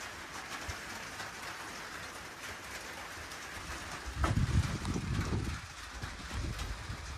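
Rain falling on a tin roof over a woodshed in rural Maine, a steady soft patter with faint wind, swelling briefly into a heavier low rush midway before settling back.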